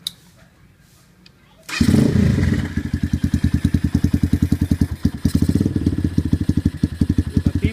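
An XR200 dirt bike fitted with a T4 race pipe fires up and settles into a loud, rhythmic thumping single-cylinder idle, close by and uncovered, with a steady pulsing beat after the start.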